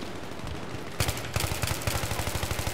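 Rapid gunfire in Battlefield 3 during a capture-the-flag match on Sabalan Pipeline: a dense burst starts about a second in, then settles into a steady, evenly spaced automatic rhythm of close shots with no talk.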